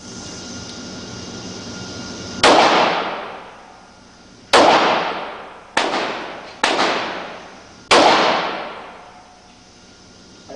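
Pistol shots at target practice, five loud sharp cracks at irregular intervals, each followed by a ringing decaying tail over a steady background hiss.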